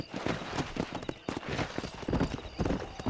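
Horse hooves clip-clop in a quick, uneven rhythm as a rider sets off in Red Dead Redemption on Xbox Series S, close and fairly loud, with a brief whinny-like touch.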